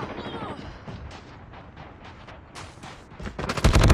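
Rapid gunfire in the mobile shooter Call of Duty Mobile, bursts of shots crackling through a busy firefight and building to a loud close volley at the end, with voices talking over the action.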